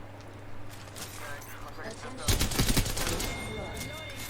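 Gunfire in the Apex Legends battle royale game crackles in rapid bursts that swell loudly partway through, layered over game effects and a steady background hum.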